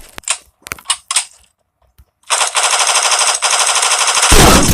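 Automatic weapon fire in the mobile shooter game Forward Assault on Android: a few short separate shots, a pause, then a loud sustained burst of rapid continuous gunfire that grows harsher at the end.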